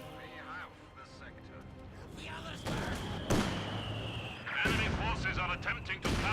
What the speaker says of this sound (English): Mortars ran a little bit short